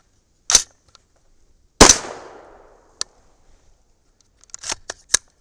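A 300 Blackout rifle fires 225-grain Hornady BTHP match subsonic rounds outdoors with no suppressor: two sharp reports a second apart, the second ringing out in a decaying tail, then a cluster of quick clicks and snaps of bolt and handling.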